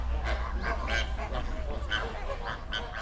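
A flock of flamingos calls at a salty alkaline lake in Kenya, a close chorus of repeated nasal honks and goose-like gabbling overlapping in uneven bursts over low rumble.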